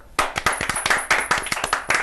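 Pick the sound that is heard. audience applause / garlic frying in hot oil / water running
audience applause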